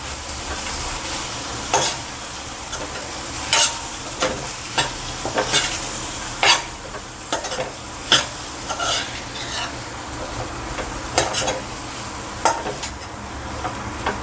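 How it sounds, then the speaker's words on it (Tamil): A spoon stirs vangi bath powder into a brinjal mixture in a pan, giving a run of close scraping and clinking strokes over a low background sizzle, with irregular pauses between stirs and no voices. "இப்போ நல்லா மிக்ஸ் பண்ணிக்கலாம்"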